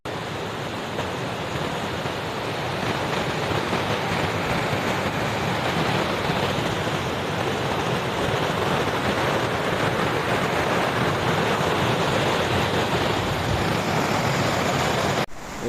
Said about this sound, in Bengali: এই যে লিডার নদী